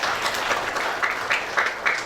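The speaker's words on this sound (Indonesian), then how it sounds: "Berikan tepuk tangan yuk bagi Tuhan." A church congregation claps together during a Sunday worship service, a brief, fairly loud burst of dense applause with a few sharper clap accents rising through it.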